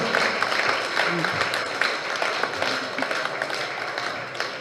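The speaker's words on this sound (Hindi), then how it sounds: "आप लोगों की तालियां ऐसी बजती हैं" Audience clapping at a Jain religious discourse, a dense steady patter of many hands filling the whole stretch at moderate level, with a voice faintly present beneath.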